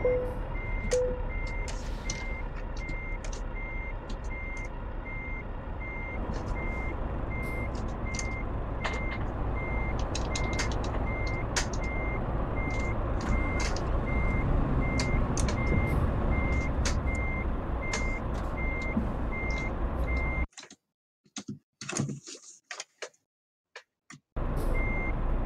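A truck reverses with a steady series of evenly spaced reversing beeps over a loud engine rumble, carrying on for about twenty seconds, then dropping to near silence with a few scattered clicks.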